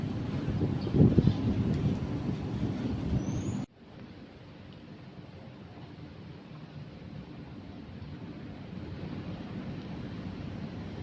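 Cool breeze blowing through a windy seating spot outdoors, heard as steady broadband rushing wind noise on the microphone. It is louder in the first few seconds, then drops to a softer, continuous hiss with no talking.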